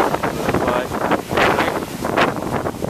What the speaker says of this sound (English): That could be just a gust.